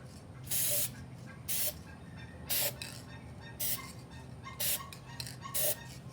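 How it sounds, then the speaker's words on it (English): A spray can hisses in six short, evenly spaced bursts while coating a mirror candleholder, each blast sharp and close against a quiet background. "Let's spray this again."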